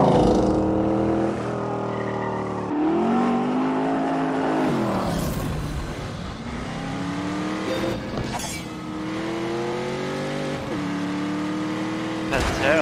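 Engine of a modified De Tomaso Pantera with an all-aluminium 7-litre V8 making 550 horsepower, racing in a video game, revving hard through repeated gear changes with rising and falling pitch, loud and close, with voices talking over it.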